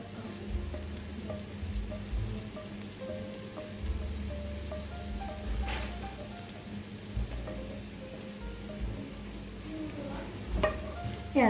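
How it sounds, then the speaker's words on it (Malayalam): Fried king fish pieces tipped into masala in a pan and stirred, steady sizzling and frying crackle with scraping stir strokes and occasional clinks, close and continuous. "ഇനി ഇതിലേക്ക് നമുക്ക് നമ്മുടെ ഫിഷ് ഫ്രൈ ഇട്ട് കൊടുക്കാം"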